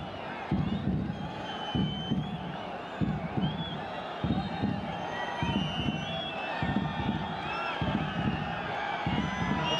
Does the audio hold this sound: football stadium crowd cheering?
yes